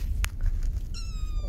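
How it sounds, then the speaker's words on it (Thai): A cat shut in a carrier at the vet's gives one short, clear meow over a low rumbling background, with a small clack just before it. "แมวพยายามจะแหกกรง"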